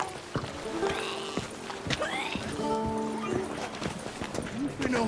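Hooves clop in a quick running rhythm as a horse gallops in The Witcher 3: Wild Hunt, with a brief whinny, while people talk over the hoofbeats.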